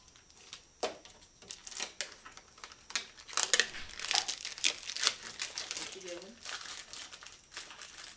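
Protective plastic film is peeled off F4 Customs windshield wings, giving close, crackly crinkling and tearing sounds that build in bursts. A person talks over it.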